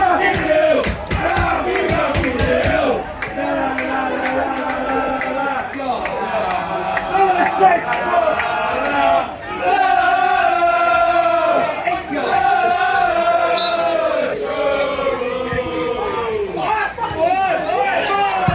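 Crowd of non-league football supporters at a St Albans City match chanting and cheering loudly and continuously after the away side Truro scores, sustained dense roar with shouted voices throughout.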